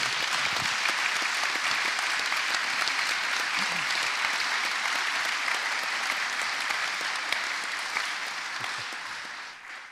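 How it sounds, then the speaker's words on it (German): Sustained audience applause fills a church service hall, dense and steady for about ten seconds before tapering slightly at the end, with no talking over it. "einfach einen Applaus für die"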